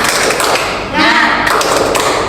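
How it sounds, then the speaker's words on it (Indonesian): A primary school class standing and performing the rhythmic Indonesian 'tepuk semangat' spirit clap, loud close claps in quick patterned bursts with a short pause midway, children's voices chanting along. "Tepuk semangat."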